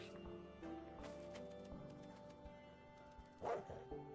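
Dog barking in Minecraft: a few short, clipped game barks scattered over steady background music, with a louder burst near the end.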